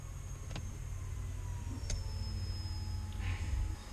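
Steady low electric fuel-pump hum in a car with a 408 Cleveland engine, running at idle pressure, with a faint high whine and a few soft ticks over four seconds and no talking.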